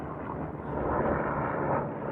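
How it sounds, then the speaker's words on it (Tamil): A broad, steady roar of a hospital helicopter overhead at Lac de la Gruyère, Switzerland, loud and continuous for the whole brief stretch, with no voices. "ஹெலிகாப்டர் போகுது. அதாவது இது ஹாஸ்பிட்டலுக்கு ஹெலிகாப்டர்"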